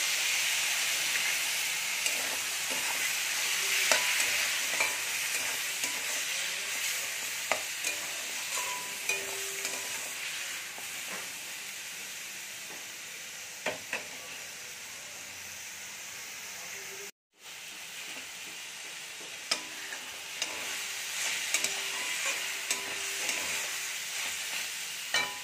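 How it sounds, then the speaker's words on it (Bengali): Fried soya chunks sizzle steadily in a pan as spices are added, a continuous loud hiss with occasional stirring clatter and one brief dropout partway through. "সয়াবিনটা ভাজা হয়ে গেছে, এবারে মশলাটা দিয়ে দেব"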